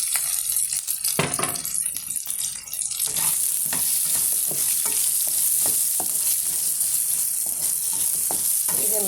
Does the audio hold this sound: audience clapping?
no